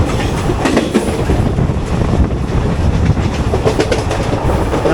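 A freight train rolls past on a siding line to a power station, close and loud, with a continuous rumble and rhythmic wheel clatter throughout.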